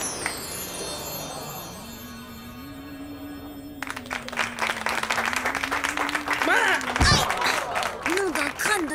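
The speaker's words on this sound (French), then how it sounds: "Je vous demande d'applaudir Michel et Zona pour leur spectacle Magirama" Audience applause for a magic show in a cartoon, a swell of clapping and crowd noise rising after a voice speaks over a sustained tone, continuing steadily to the end.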